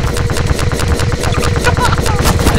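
Rapid gunfire in Garry's Mod rattles close and loud in a dense, continuous burst of shots that lasts the whole moment.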